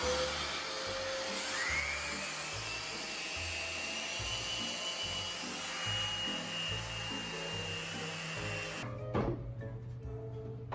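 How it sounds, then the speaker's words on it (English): A power sander works over a piece of furniture being flipped, a steady continuous whine with a rough rubbing texture that runs for about nine seconds before cutting off abruptly. "I actually had a second sander and was able to swap out the pad onto the other sander and was back up and running in no time"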